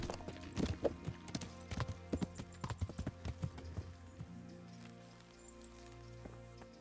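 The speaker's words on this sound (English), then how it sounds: "Whoa, horsey." A horse's hooves trot in Kingdom Come: Deliverance, a quick run of distinct clops that slows and fades after a few seconds, leaving a quiet ambient bed with faint background voice.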